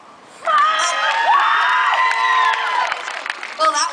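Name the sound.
crowd whooping, cheering and applauding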